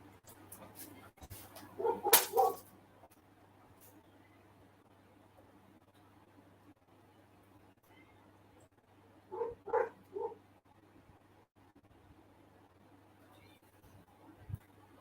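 Two short bursts of dog barks, a few quick yaps each, separated by quiet with a low background hum.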